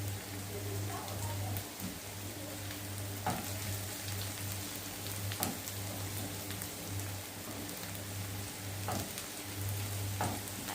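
Onions fry in a pan toward a light golden color, giving a steady soft sizzle and crackle with occasional stirring clicks, while a low hum runs underneath and no one speaks.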